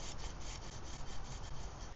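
A wooden spindle rubs and grinds into a three-stick fireboard for a primitive friction fire, giving a soft, steady rasping with faint rhythmic pulses from the back-and-forth drilling.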